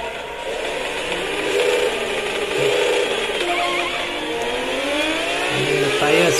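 A motorbike engine in a PS2 racing game, MotoGP-style, revs and whines continuously, with rising and falling pitch as it accelerates and shifts, mixed with a steady mid-loud engine drone.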